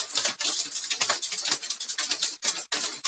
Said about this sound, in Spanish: Creo que el granizo no me está permitiendo.